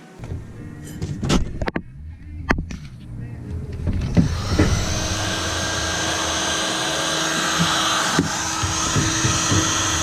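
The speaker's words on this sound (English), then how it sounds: "This heat gun gets hot." Heat gun warming material for a bass boat rod locker, a few handling clicks and knocks first, then the blower starts up and settles into a steady loud whirring drone that continues to the end.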